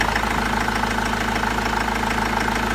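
A refurbished Ford Transit Mk 7 engine idles with a loud, steady, rhythmic diesel chug and a slight knock, heard close up with no talk.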